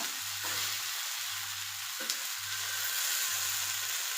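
Masala-coated mackerel (bangude) fries in a pan with a steady, close sizzle under a low intermittent hum and a couple of brief clicks.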